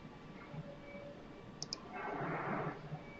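A computer mouse gives two quick, quiet clicks in close succession against a soft room hum.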